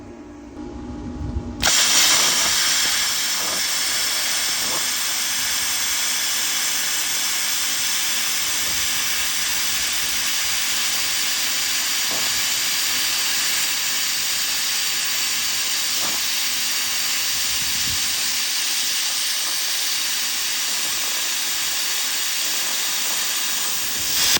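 A YESWELDER Cut 65DS plasma cutter cuts 3/16 steel angle, fed by air at 73 PSI: after a brief quiet start the arc ignites into a loud, continuous roaring hiss that holds steady for over twenty seconds, with no talking.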